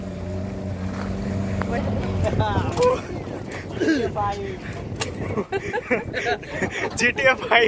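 A motorboat carries passengers across a lake in Ranchi; its engine drones steadily and close throughout, with voices and chatter over it.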